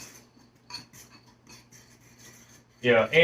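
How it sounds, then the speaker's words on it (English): An egg and cornstarch mixture for coconut cream cake is stirred quickly, giving soft, faint scraping and rasping strokes against the bowl, followed by a short burst of close speech at the end. "you want to stir quick, or you want to consistently stir"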